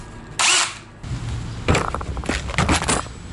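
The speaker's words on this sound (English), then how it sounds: "Here's my drill." A power drill whirs in short bursts, a brief high whine first, then several stuttering pulses of the motor revving up close by.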